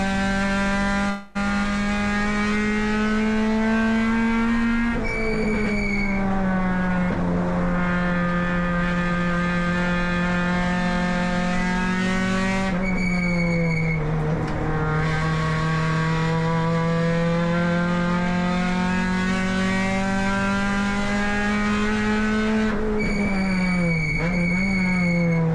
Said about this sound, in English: And here is the number 7 car with Hanaran now at the wheel. We'll let you listen to this on board.